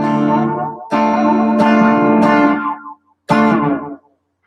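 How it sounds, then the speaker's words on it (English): Electric guitar played through a Roland Space Echo-style digital echo with modulation, giving a series of bright strummed chords with shimmering, chorused repeats that ring and trail off, loud and up close. "This one's called the Space Echo version. Digital, right? That Roland thing."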